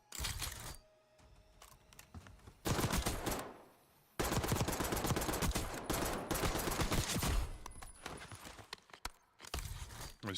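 Rapid automatic gunfire in Black Ops 6 multiplayer, loud sustained bursts of rattling shots broken by short pauses, with a quieter stretch of lighter clatter and footsteps between the volleys.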